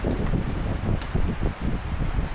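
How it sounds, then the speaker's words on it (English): Gusty outdoor wind buffeting around a parked vehicle during hammock setup, a rough, rushing roar that swells and dips with brief whooshing surges, no talking. "You can see it's pretty windy today."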